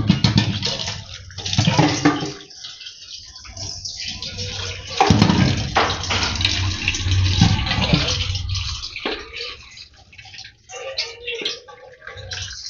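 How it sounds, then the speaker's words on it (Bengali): Tap water runs into a basin sink while Malabar spinach (pui shak) is rinsed, making a loud, close, continuous splashing rush that rises and dips as the leaves are handled. "এই শাকগুলো জানো না ভালো করে ধুয়েই নিয়ে আসি"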